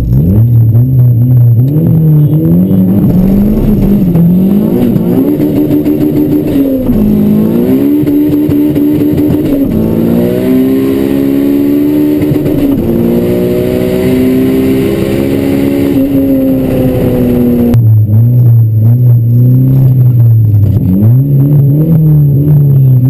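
A turbocharged Honda Civic 1.6 races a Toyota Supra, loud engines revving and droning continuously with rising and falling pitch as gears change, close and strong throughout, no voices.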